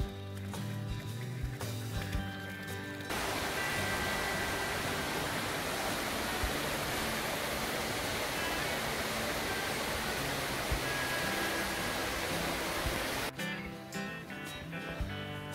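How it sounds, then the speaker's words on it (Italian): Water pours steadily from a mountain fountain in an alpine pasture among snow-edged peaks, a loud continuous rushing splash that fills the scene, with a softer outdoor ambience at the start and end. "Presenza di una fontana."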